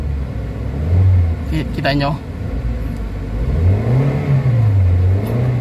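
Toyota Avanza engine, one suffering low power and delayed throttle response, revving up and down in two rising and falling surges close by, while someone talks briefly over it.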